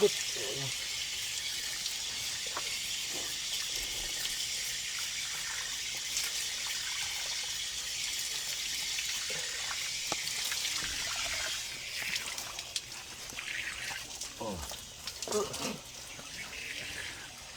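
Water trickles and splashes steadily as a foot is rinsed at a tap or basin, with faint voices talking now and then in the background.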